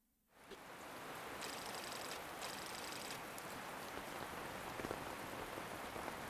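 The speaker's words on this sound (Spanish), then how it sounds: "bajo la lluvia" Steady rain falls in the video game Metal Gear Solid Peace Walker, an even hiss that rises quickly from silence and holds throughout, with a faint high tone layered in briefly.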